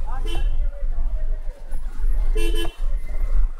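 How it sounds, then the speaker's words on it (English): A car horn gives two short honks, one at the start and one later, amid street traffic noise and background chatter. "I just honk to make sure that guy can hear me"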